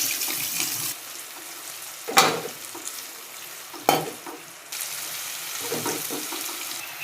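Chili and onion go into hot oil in a pan for a fish curry, with a sizzling, hissing fry and a couple of sharp bursts as the ingredients land. No one talks.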